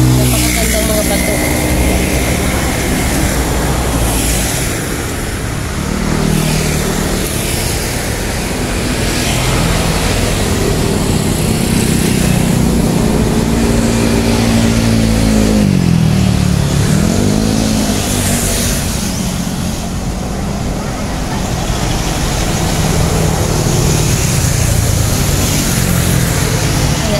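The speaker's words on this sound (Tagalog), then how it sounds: "Ang dami rin mga sasakyan na dumadaan dyan." Road traffic passes continuously near an airport terminal, with a car engine revving and whooshing by and a steady drone of other vehicles, while a person talks over the noise.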